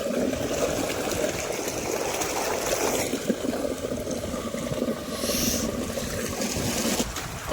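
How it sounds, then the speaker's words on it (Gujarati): Water gushing from a farm borewell pump pipe, a steady loud rushing and splashing flow that continues unbroken throughout, heard up close with no talk. "બોરમાંથી પાણી આવી રહ્યું છે, પાણીનો અવાજ ભરાઈ રહ્યો છે"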